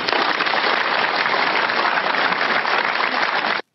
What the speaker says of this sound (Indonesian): Tepuk tangan dulu dong buat semuanya.